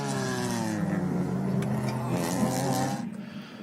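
Race cars accelerating hard at Mazda Raceway Laguna Seca during a 2017 Pirelli World Challenge TC round, loud rising engine whine with layered harmonics, fading slightly at the end.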